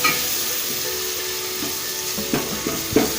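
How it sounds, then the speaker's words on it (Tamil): Shallots and curry leaves fry in a pan for a dal banana flower kuzhambu, with a constant even sizzle and a few light stirring scrapes toward the end. "சின்ன வெங்காயம் சேர்த்தியாச்சு. வெங்காயம் வந்து நல்லா வணங்கட்டும்."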